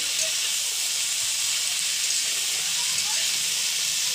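Potatoes, cauliflower and onion sizzling in hot oil with cumin, dried chilli and bay leaf: constant close bright hiss and crackle, steady and even throughout.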